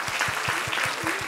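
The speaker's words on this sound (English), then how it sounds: "Shall we give him a round of applause?" A brief burst of audience applause, dense and close, with a steady patter of clapping over a faint low rhythmic thump.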